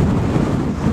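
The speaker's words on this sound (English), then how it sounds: "As you can see, it's very windy." Strong wind roars steadily across the microphone at a winter camp site, a loud, continuous rumbling gust with no break and no voices.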